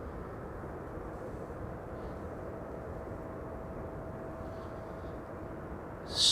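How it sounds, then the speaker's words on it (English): KLM Airbus A380 arriving at Amsterdam Schiphol from Brussels, a low, steady rumbling jet roar at a distance, unbroken for several seconds before a sudden brief noise at the end. "KLM A380 arrival from Brussels."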